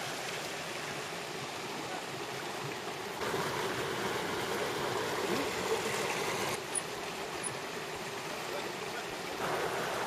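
Water rushes and burbles continuously, a steady stream in the Judean Desert near Mar Saba monastery flowing nearby with a soft, even hiss and no talking.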